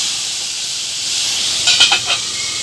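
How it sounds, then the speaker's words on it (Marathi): Tomatoes and coriander steam in a covered pan while a steady hiss runs throughout, with a few brief louder bursts of escaping steam near the end. "झाकण ठेवून आपण टमाटा 1-2 मिनिटं वाफवून घेऊ।"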